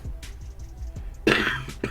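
A single sharp cough bursts out near the end, following a few soft throat sounds and breaths, close to the microphone.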